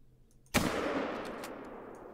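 A single loud rifle shot at a bison in the hunting game The Hunter: Call of the Wild, with a sharp crack at the start and a long echoing reverberant tail afterward.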